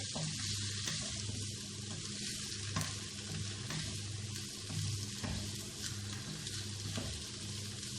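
Beef sizzling and frying steadily in a pan for a masala beef sauce, a continuous close hiss with faint stirring scrapes and no talk.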